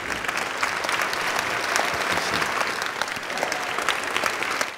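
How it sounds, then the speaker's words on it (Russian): Audience applause after a literary reading of a Gogol story, a dense, steady wash of many hands clapping that holds evenly for several seconds with no talk over it. "Все ваши аплодисменты Николаю Васильевичу Гоголю."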